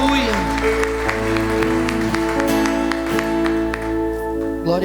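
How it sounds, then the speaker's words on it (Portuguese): A church congregation claps during a celebration worship service, steady applause running under sustained keyboard or organ tones, with a voice speaking over it. "Aplauda ao Senhor Jesus."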